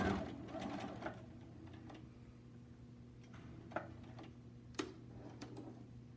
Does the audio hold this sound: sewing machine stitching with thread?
yes